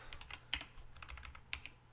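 Keys on a computer keyboard tap in short irregular bursts, close and quiet, with a couple of sharper clacks standing out over a low electrical hum.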